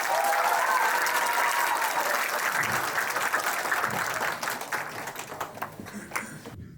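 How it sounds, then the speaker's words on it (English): Audience applause for a speaker about to give a talk on a silent disease, a dense, continuous round of clapping from a large crowd that gradually tapers off toward the end. "Let's give a big round of applause for Callista Annisa Rachman."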